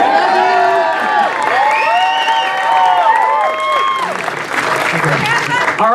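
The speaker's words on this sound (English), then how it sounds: "Let's give another big round of applause, ladies and gentlemen." A large crowd at Halloween Horror Nights 2016, Universal Orlando, claps and cheers loudly and continuously for The Walking Dead stars, with whoops and shouts scattered throughout and a person speaking over the noise.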